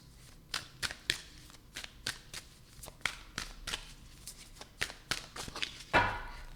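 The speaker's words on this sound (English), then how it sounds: "So let's give it one shuffle for knowledge." Oracle cards being riffled and shuffled in quick bursts, a series of crisp ruffling snaps close up, with a fuller cascade near the end.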